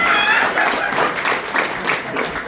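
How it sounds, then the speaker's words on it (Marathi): Audience applause, a dense burst of many hands clapping together at close range, steady throughout and easing slightly toward the end. "एकच नशिबाने जोरदार टाळ्या झाल्या पाहिजे."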